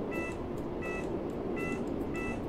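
Door panel signal buzzer aboard a Class 484 train on the Island Line, giving short repeated bleeps, four evenly spaced tones over steady cab or carriage hum.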